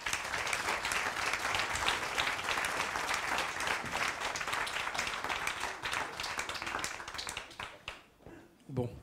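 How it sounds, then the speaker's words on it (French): Audience at a conference talk welcoming two guests with sustained, dense applause that fills most of the stretch, then thins out and fades near the end. "Amélie Dalmazo et David Lermite, sous vos applaudissements, s'il vous plaît."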